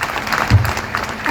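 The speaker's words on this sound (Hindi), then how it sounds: "तालियों की गड़गड़ाहट रुकनी नहीं चाहिए" Crowd applause bursts out briefly at the close of a speech at a workers' union meeting, a short dense patter of clapping mixed with voices.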